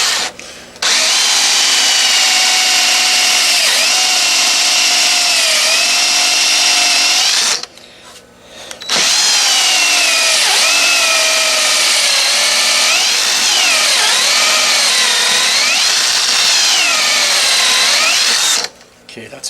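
A power drill bores a hole to a one-inch depth marked on the bit. It gives two long, loud, close whining runs with a short pause between them, and its pitch wavers and dips as the bit bites.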